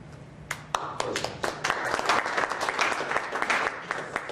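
A lecture audience applauds, a dense burst of many hands clapping that starts with a few sharp claps and builds to steady, fairly loud applause.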